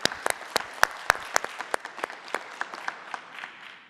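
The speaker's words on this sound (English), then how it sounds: "Round of applause for Kimberly-Clark." Sparse, scattered clapping from an audience at a United Way campaign kickoff, with sharp separate claps that slow and fade over a few seconds.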